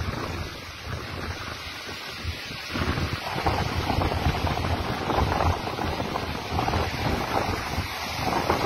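Floodwater courses along flooded roads in Pakistan, a steady broadband rush that swells louder partway through, mixed with wind buffeting the microphone.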